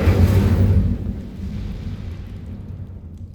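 A fiery incendiary spell cast in Hogwarts Legacy erupts as a loud rumbling whoosh at the start, then decays into a lingering crackling roar that fades away over a few seconds.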